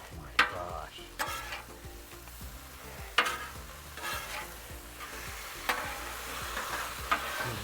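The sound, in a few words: noodles sizzling on a griddle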